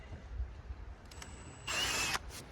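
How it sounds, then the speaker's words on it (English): A drill with a Forstner bit countersinks wood for beach stair work in one short, loud whirring burst of about half a second, following quiet rustling and a faint whine. "all I'm doing is countersinking this about yay big"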